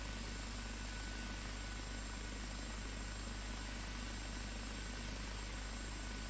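Constant loud engine and rotor drone of an OH-58D helicopter in flight, steady throughout with a dense low hum and hiss and no speech.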